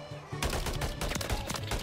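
Rapid bursts of video game gunfire crackle loudly and nearly continuously for under two seconds, close and dense like an automatic weapon.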